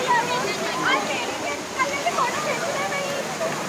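Cold stream water rushes steadily past, a continuous broad hiss and gurgle close by, with people speaking over it.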